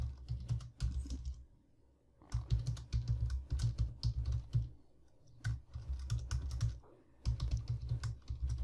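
Rapid keystrokes on a computer keyboard while writing code, close and crisp, coming in uneven bursts with brief gaps between them.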